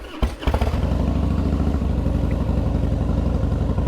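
A motorcycle engine starts with a few cranking thumps, catches and settles into a steady, loud, close idle with a throbbing low rumble.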